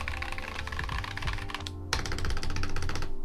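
Fast typing rattles across a full-size optical-switch computer keyboard that has been soaked in water, a dense burst of clicky keystrokes with a brief pause midway before the clatter resumes, close and fairly loud.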